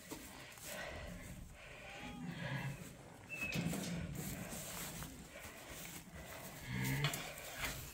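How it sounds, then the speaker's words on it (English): Lamb and ewe in a sheep barn, with soft bleats scattered through the stretch over a low, busy barn background; a few brief tonal calls stand out near the middle and toward the end, moderately close. "I got our lamb up here."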